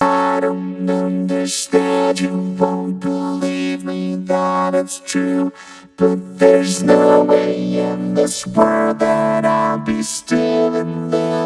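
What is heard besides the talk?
vocoder effect on singing vocal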